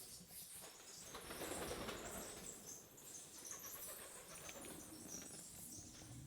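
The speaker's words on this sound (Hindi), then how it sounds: "आज इसके अंदर पूरे के पूरे जो हैं कबूतर हैं" Pigeons' wings flap and flutter inside a large well, a hollow, echoing space, a faint continuous rustle of birds moving about with soft patter and no voices.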